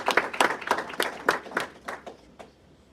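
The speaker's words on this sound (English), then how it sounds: "this one you're going to make sure you give him a round of applause" An audience at a 2024 legislative agenda event gives a brief round of applause, about a dozen hand claps in a loose rhythm that thin out and fade over a few seconds, with no speech over them.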